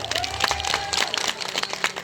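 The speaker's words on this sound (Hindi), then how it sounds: "चलिए एक बार आप सभी के लिए जोरदार ताली होनी चाहिए" Audience applause at a lively stage event, bursts of clapping and crowd noise filling the space at close range, with a high whistling tone running through part of it.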